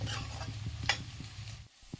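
Onions fry softly in a pan as a utensil stirs them in a quick rhythm of light scrapes and taps, with a faint sizzle underneath that briefly drops away near the end.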